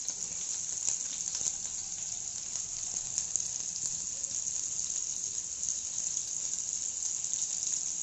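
Chopped onions fry in hot refined oil with a steady high-pitched sizzling hiss, broken by scattered small pops and crackles. The sound is moderately quiet and close, and no one talks over it.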